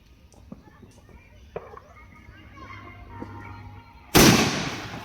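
Firecrackers set off in water during a Makara Sankranti celebration in Mayurbhanj: after quiet background chatter and faint rustling, a single loud, sharp burst erupts near the end, followed by a spreading splashy roar.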